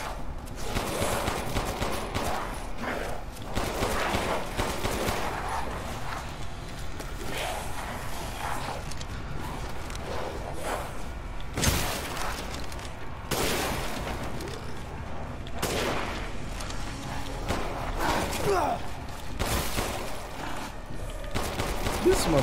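Gunfire in the survival horror video game Resident Evil Village, repeated sharp shots and bursts against a dense, loud battle din, with a voice talking over it.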